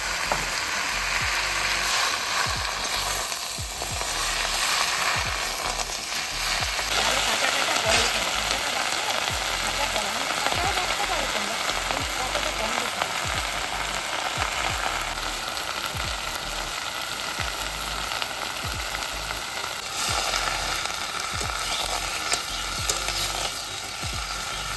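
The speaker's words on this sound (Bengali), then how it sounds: "পাতাগুলো একটু আমসে নিলে বাটাটা ভালো হয়" Bottle gourd leaves are pan-roasted and stirred, producing a constant crackling sizzle with repeated scraping taps of the utensil against the pan, close and steady throughout.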